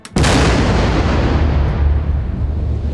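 Artillery-style firing lets out a single massive thump that hits hard and loud, then rolls into a dense, sustained low rumble lasting several seconds, with no voices over it.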